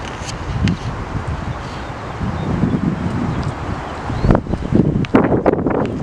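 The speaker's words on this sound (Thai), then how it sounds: "ลมมาแล้วลมมาแล้วครับสวย" Wind gusts through blooming cherry blossom trees in Newport News, Virginia, a rustling, buffeting whoosh close to the microphone that swells and rattles more strongly toward the end.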